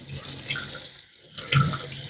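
Tap water runs steadily into a sink while homemade bacon pork is rinsed, a close, continuous splashing with a brief dip in the middle.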